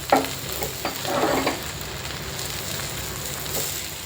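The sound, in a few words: stirring ghee-fried rajma into polao in a pan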